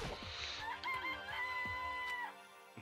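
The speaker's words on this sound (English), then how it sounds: "Hello, Mr. Chicken. It's a chicken!" Crowing from a chicken in the game Shooty Bang Bang High School, a stretched rooster call over short clucks and light knocks, close by and alone without talk.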